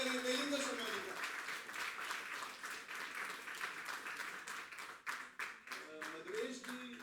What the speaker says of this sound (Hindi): एक बार जोरदार तालियों से स्वागत करें तेजिंदर शर्मा जी का।